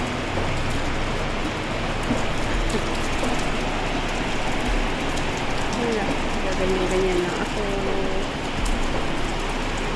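Heavy monsoon rain pours in a steady wash of hiss and patter, broadband and close. Someone talks quietly over it.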